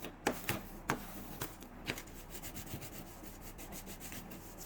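A bone folder rubs and presses paper inside a small junk journal box while the glue is still wet. It gives soft, close scraping strokes, a few sharper swipes early and then gentler rhythmic rubbing, all quiet.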